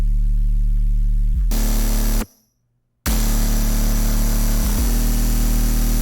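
Sustained, loud synth sub bass flip, EQ'd, droning steadily with low harmonics and broadband hiss, cutting out briefly into near silence before resuming at full level.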